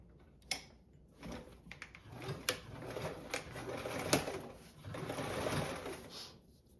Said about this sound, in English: you can sew another row of stitches 1/8 of an inch away